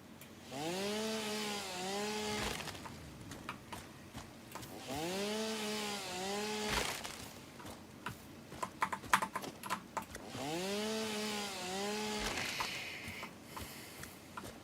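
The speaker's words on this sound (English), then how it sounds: "I go right for the chainsaw in the early game because it does help you massively" Chainsaw in the video game Satisfactory cutting trees, three revving whines in repeated cycles, each followed by crackling, clattering bursts of falling wood; loud and alone with no talk.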